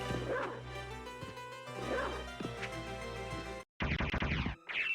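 Dog barking in a Symphony of the Night randomizer game, a run of quick yipping barks with game music and effects, then a sharp cut to louder, dense game sounds.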